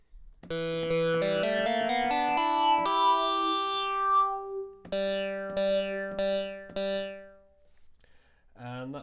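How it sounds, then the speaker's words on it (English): A bright, resonant vintage toy synthesizer patch with high resonance and a long envelope sweeps through rising notes, then sings out a sustained, piercing tone with a few sharp repeated stabs. "So with the resonance and long envelope, create some really screaming patches."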